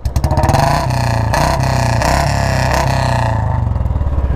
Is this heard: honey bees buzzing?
no